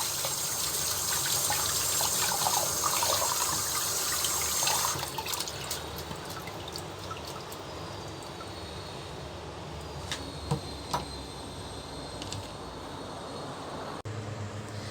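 String beans are washed under running tap water, a steady hissing gush with louder water noise over the first five seconds, then a softer continuous flow with scattered clicks and light knocks.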